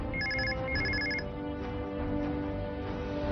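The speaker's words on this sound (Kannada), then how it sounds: "ಅವಳದ್ದೇ ಫೋನ್ ಇರ್ಬೇಕು, ಇರಿ ನಾನೇ ನೋಡ್ತೀನಿ" Close and alone, a phone ringtone plays two short bursts of rapid electronic trills, followed by a steady tonal hum.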